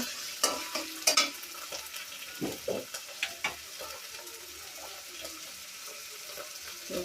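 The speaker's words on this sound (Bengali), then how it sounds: "এখন আমি এটা পানি দিয়ে একটু কষাবো।" Chicken with ginger, garlic and turmeric being stirred and sautéed in a pan, a gentle sizzle broken by short scraping and clinking strokes of a spoon, close and moderately quiet.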